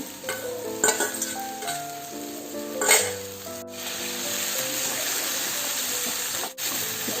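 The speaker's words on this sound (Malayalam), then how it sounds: "ഇനി ഇതിലേക്ക് നമുക്ക് ഗ്രീൻ പീസ് ചേർത്ത് കൊടുക്കാം" Frozen green peas tumble into a hot frying pan for a dhaba-style green peas masala, giving a steady close sizzle with a few scraping stirs and clinks of a spoon against the pan.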